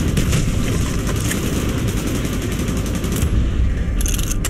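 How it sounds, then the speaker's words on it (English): Gunfire rattles in the Call of Duty Black Ops video game as dense, rapid bursts over a loud, rumbling battlefield din. "Gunfire's drawing attention."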